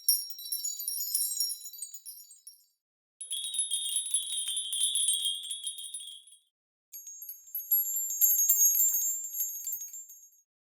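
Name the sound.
bells tied on rope jangled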